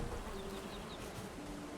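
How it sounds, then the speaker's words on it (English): Bees buzzing in the video game Valheim, a soft continuous insect drone with faint rising whines, quiet and steady for under two seconds with no talk. "hopefully that won't upset these bees at all."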